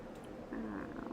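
A voice imitates a cat, giving a soft low rolling purr-like growl after a quiet start, faint and close.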